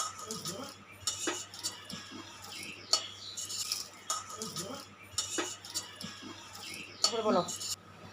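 Stirring in a pan while frying for a Bengali dried kechki fish and potato mash dish, soft metal spoon scrapes and clinks against the pan, intermittent, with a person talking quietly throughout.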